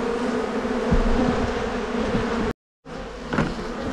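Honeybees from a swarm in a loft fly around a hive, giving a loud, dense, continuous buzzing close to the listener, broken by one brief silent gap.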